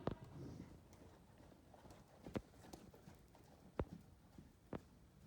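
Hooves of a horse in a dressage lesson strike the arena in a steady trotting rhythm, a few sharper thuds standing out over a quiet background.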